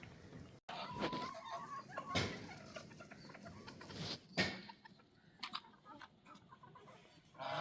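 Chickens kept in a room on a cattle farm in Nankana cluck and chatter nearby in uneven bursts, with a short crowing-like call. No one speaks.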